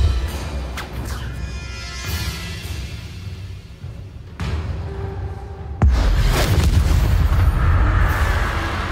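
Depulso force spell cast in the video game Hogwarts Legacy, a series of booming blasts with a heavy, loud impact near the end, over continuous game ambience.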